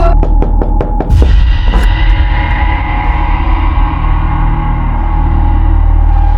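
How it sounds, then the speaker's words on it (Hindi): Rapid knocks on a closed door inside a home, a quick series of loud raps followed by a couple of heavier blows, set against steady background music and room noise in a Haryana crime drama scene. "आलिया, दरवाजा खोलो।"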